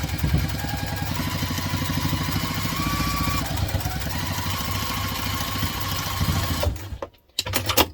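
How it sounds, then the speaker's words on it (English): A sewing machine runs steadily while top stitching an onigiri bag, a continuous close mechanical whir that stops abruptly near the end, followed by a few light handling sounds. "So now we're going to top stitch along here, going up to my top stitch length."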